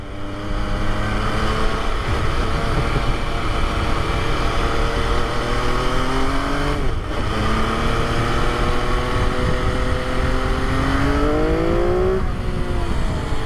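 A 2020 MV Agusta motorcycle engine drones loudly and steadily in second gear with a rough, rattling edge, pitch climbing through a gear before a brief dip and another rise.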